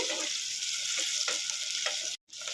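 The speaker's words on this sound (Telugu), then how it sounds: "ఇవైతే మంచిగా ఫ్రై కావాలి ఆయిల్లోనే పచ్చిమిర్చి" Green chillies fry in hot oil for a Telugu gongura tomato chutney, giving a steady close sizzle with a few stirring scrapes and a brief silent break near the end.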